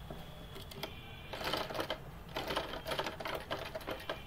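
A sewing machine runs in repeated bursts while stitching loops onto a halter neck of a garment, its rapid mechanical rattle starting and stopping close by.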